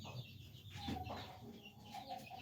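Chicken clucking from a prized rooster among large farm fowl, a few short faint clucks and low calls spaced irregularly over quiet background.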